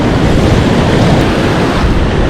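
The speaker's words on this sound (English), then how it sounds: "the waves are breaking in pretty close" Strong swell breaks close to the shore on a south-coast beach as the tide comes up, making a loud, continuous roar of surf mixed with wind rumble, with no voices.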